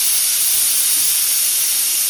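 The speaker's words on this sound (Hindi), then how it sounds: "जस्ट अभी मैंने कुकर का ढक्कन हटाया है।" Loud, steady steam hiss comes from a pressure cooker of boiling mangoes as its lid is taken off, a continuous broadband rush lasting about two seconds with no voices.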